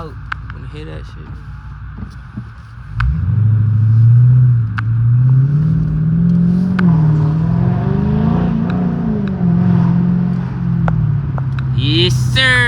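Dodge Scat Pack with a 392 engine, revving loudly nearby in a deep rising and falling roar that holds for several seconds after a quieter idle, with occasional talk over it.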